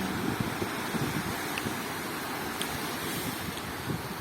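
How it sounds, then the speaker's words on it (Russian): Black Sea waves washing onto the shore at Luzanovka beach in Odesa in late March, a continuous low rolling wash with steady wind noise, moderately loud with no voices. "Вам море шлет привет своими волнами."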